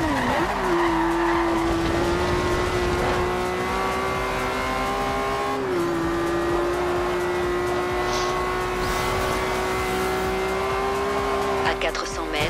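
A car driven hard in Forza Horizon 2, with a steady high engine drone and squealing, skidding tires over a sustained loud roar, while a person talks over the game sound.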